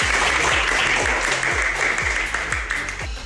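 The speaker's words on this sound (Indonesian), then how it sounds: "Tepuk tangan" A crowd breaks into applause, a dense wash of clapping with a few sharper individual claps repeating at a steady beat throughout.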